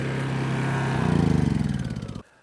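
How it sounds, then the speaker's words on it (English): A Sawzall reciprocating saw cutting through small trees, a loud buzzing motor with a rapid rhythmic pulsing stroke that builds as it bites, then stops abruptly. "using this sawzall"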